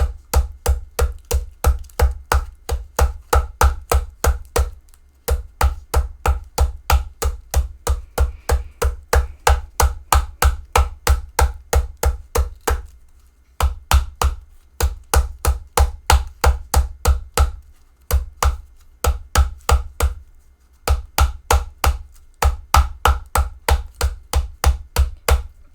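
Aluminium foil being hammered into a Japanese foil ball, a steady run of sharp, loud, evenly spaced strikes in quick bursts with brief pauses between, close by and with no voices.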